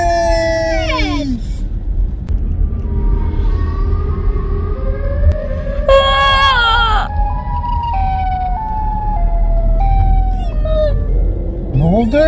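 The Siren Head creature's wailing siren rises and falls in swooping tones over a low rumble, loud and continuous, with overlapping pitched cries.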